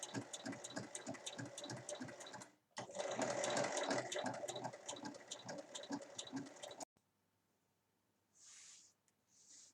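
A sewing machine stitches between two folded fabric bands in quick rhythmic bursts, running about two and a half seconds, pausing briefly, then running again before stopping into near silence.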